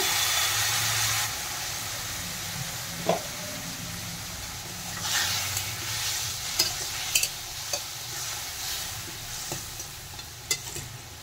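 Spice paste for a Bengali fish curry with potato and pointed gourd sizzles in a pan after a splash of water is added. A steady hiss runs throughout, with intermittent scrapes and clicks of stirring, and no talking.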